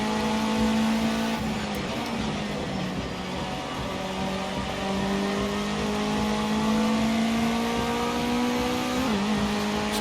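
A Ginetta Junior race car in Project CARS 2 drones loudly and steadily near, its engine note climbing and falling through gear changes, with tyre scrub under a loose rear end layered over the continuous roar.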